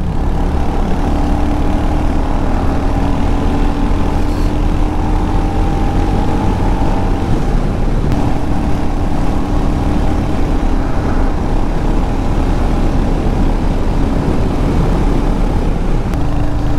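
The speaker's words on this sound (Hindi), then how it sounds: "बाइक भगाने में भाई बहुत मजा आता है" A Royal Enfield Hunter 350 motorcycle underway, its engine holding a steady, continuous drone with wind rush for the whole stretch, close and loud, with no talking.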